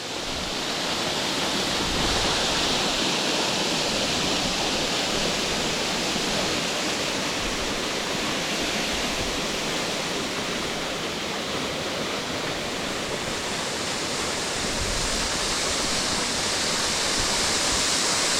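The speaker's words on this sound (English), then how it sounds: "I'm getting spray off the waterfall now." A waterfall in Craik Forest roars close by, a steady, dense wash of falling water that fills the whole stretch without a break.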